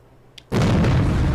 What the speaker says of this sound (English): It's just an explosion.